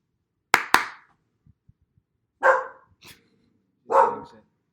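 A dog barks nearby in a series of sharp, loud woofs: two quick barks close together, a short pause with faint soft sounds, then two more barks spaced apart, with no talking.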